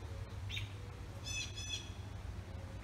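Young birds in an outdoor nest give a few short high chirps and squeaky calls in brief bursts over a low steady background hum, fairly faint and unaccompanied by talk.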